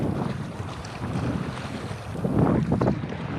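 Strong wind buffets the microphone while paddling a Pungo 140 kayak on open water, a continuous rushing roar with gusts and faint water splashes close by.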